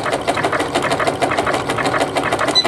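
A sewing machine running a feather stitch, also called a patchwork or faggoting stitch, in bobbin work, a loud fast rhythmic needle chatter that pulses steadily close to the listener.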